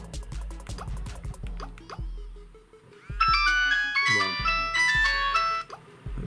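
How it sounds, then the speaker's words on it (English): Polyphonic ringtone melody from a Nokia feature phone, a bright run of electronic notes that rises loud and steady over the last few seconds after quieter clicks and handling sounds. "Let's go into tone settings, ringtone."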